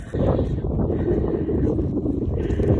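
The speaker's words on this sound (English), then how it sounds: "Oh my goodness, it is windy." Strong wind buffets and rumbles across the microphone in a continuous low roar at a roadside egg and produce stand, loud and close, with no speech heard.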